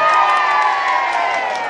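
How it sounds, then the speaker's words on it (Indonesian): An outdoor audience at a traditional market gathering cheers and shouts loudly for Ibu Ismi in a sustained, dense burst of many voices, with little distinct clapping. "tepuk tangan dulu buat Ibu Ismi"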